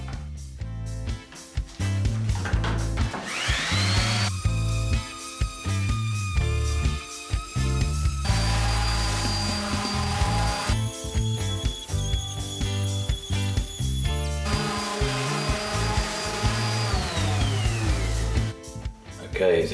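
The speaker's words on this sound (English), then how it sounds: "I've got a disc sander with about a 120 grade on it." A disc sander fitted with roughly 120-grit paper works across a wooden floor, its motor whining up and holding pitch in repeated passes amid rattling, scraping mechanical noise.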